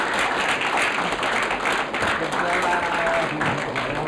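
Audience applause at an Indonesian comedy talk show as a guest is called onstage, a steady dense wash of clapping lasting throughout, with a host's voice over it.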